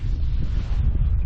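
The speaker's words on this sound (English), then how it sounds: "Problem, sorry if it's windy," Strong, steady wind on a hilltop buffets the microphone, a loud low roar with no pauses.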